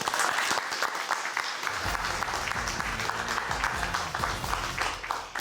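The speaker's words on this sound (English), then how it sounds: "Round of applause for everybody." Audience applause breaks out for quiz teams at an It's Academic playoff, a dense sustained clapping that fills the room, with a brief quieter lead-in and faint voices underneath.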